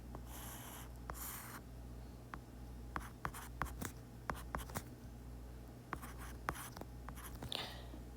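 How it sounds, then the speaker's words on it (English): A triangle drawn by hand on paper during a math review, with scratchy pen strokes and short taps spread over several seconds, close and fairly quiet against a low background hum. "let me just draw this triangle out here"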